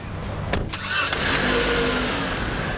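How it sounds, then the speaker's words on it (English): A car travels on Interstate 95 North, its engine humming and rising briefly as it accelerates, with a steady road rumble close by and no voices. "We got in the car, powered up the GPS, and hopped on 95 North."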